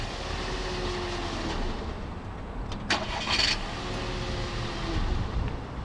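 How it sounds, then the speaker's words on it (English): A car engine cranks and catches, with a brief burst of starter noise midway through a steady, loud background rumble and a second surge near the end. "and Sean is going to turn the car on and off, and we're going to measure the results."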